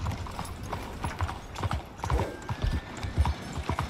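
Steady clip-clop of horse hooves trotting at an even rhythm in the video game Red Dead Redemption 2, moderately loud, with faint background ambience and no voices.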